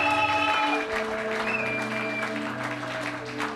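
A church congregation applauding to acclaim Jesus, steady loud clapping throughout with sustained organ or keyboard tones underneath.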